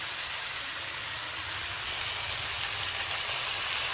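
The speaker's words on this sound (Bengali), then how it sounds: "চিকেনটাকে দিয়ে দিলাম। চিকেনটাকে একটু ভাজা হতে দেব।" Chicken pieces frying in a pan with spices such as Kashmiri chilli powder, a loud, constant close-up sizzle and hiss with no talking.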